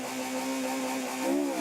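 Ford Escort historic rally car at the Killarney Historic Rally, its engine droning steadily at close range before the revs climb near the end, with no voices.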